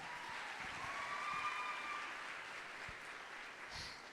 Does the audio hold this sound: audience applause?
yes